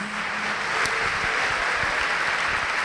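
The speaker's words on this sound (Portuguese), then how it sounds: "Vamos aplaudir o Senhor por isso." Congregation applauding during a Portuguese-language church sermon, a continuous crowd clapping with a few sharper individual claps standing out near the listener.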